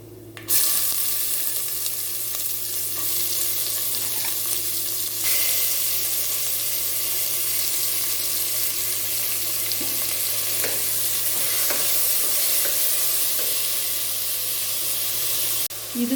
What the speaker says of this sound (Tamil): இப்போ வெங்காயம், பூண்டு, தக்காளி, பச்சை மிளகாய் எல்லாத்தையும் போட்டு நல்லா வதக்கிக்கலாம்